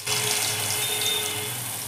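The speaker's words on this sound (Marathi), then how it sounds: "हे पहा, तेल चांगलं तापलेलं आहे। आपण आता वडा घालून घेऊया।" Medu vada batter dropped into hot oil, giving a steady, loud sizzling hiss that starts abruptly and carries on for about two seconds, close up with no talking.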